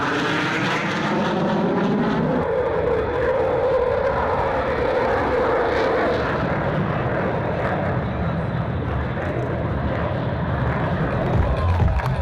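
Rafale and Jaguar fighter jets performing in an Indian Air Force air display, producing a loud, sustained roar of jet engines that swells and shifts in pitch over a broad wash of crowd noise throughout.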